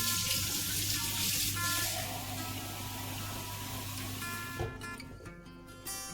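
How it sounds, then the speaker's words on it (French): Lukewarm water pours steadily from a tap for homemade bread dough, a broad continuous rush that runs for about four and a half seconds before cutting off, leaving a quieter tail with faint clinks. "300 g d'eau tiède."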